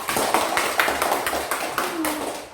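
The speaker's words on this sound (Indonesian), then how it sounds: "Mari kita tepuk tangan untuk kelompok 2." A classroom of students claps for a discussion group, a lively run of close claps with a loose shared rhythm that holds steadily throughout.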